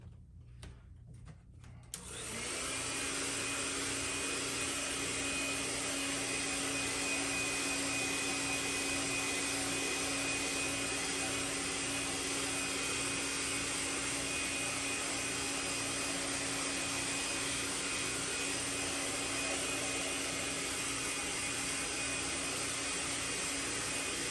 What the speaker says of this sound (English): I got my blow dryer over here on the other side of my table